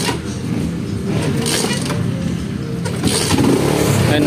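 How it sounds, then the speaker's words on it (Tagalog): A Rusi Wave 100 motorcycle engine cranked by kick and sputtering into a loud, close, rough running idle with slight revving. "pag pinandar natin siya ng binobomba, maandar naman siya"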